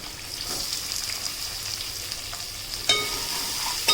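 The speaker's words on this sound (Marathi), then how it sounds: "आता आपला लसूणसुद्धा चांगला तापलेला आहे असं लालसर झालेला आहे त्यामध्ये आपण इथे बारीक चिरलेला कांदा घेणार आहोत" Finely chopped onion sizzles steadily in hot oil with reddened garlic in a pan for a Konkan-style dry field bean curry, an even close frying hiss with a sharper burst and occasional stirring clicks near the end.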